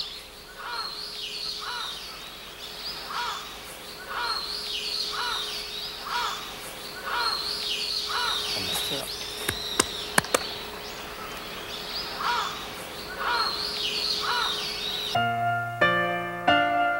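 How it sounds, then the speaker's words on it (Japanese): Crows and other birds call along an autumn walking path on the Kokubunji cliff line in Setagaya, with a regular series of caws repeating roughly every second, a few sharp clicks midway, and music entering near the end. "鳥もいるし"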